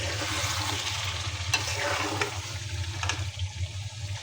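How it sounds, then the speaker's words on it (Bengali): Stinging catfish sautéing in a pan, giving a steady close sizzle with stirring scrapes and occasional clinks over a constant low hum, with no talking. "মাছগুলো কষিয়ে নিলাম, এরপর ঝোল দেব।"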